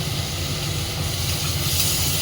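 Ground spices for a fish curry fry in a pan with a splash of water, giving a loud, steady, close bubbling hiss that holds evenly throughout.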